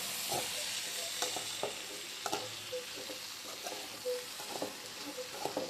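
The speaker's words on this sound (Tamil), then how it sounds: "நல்லா மிக்ஸ் ஆகிற அளவுக்கு நல்லா கிண்டி வச்சுருவேன்" Brinjal and amaranth greens fry in a pan for a keerai poriyal while a spatula stirs them, making repeated irregular scrapes and clatters over a constant soft sizzle.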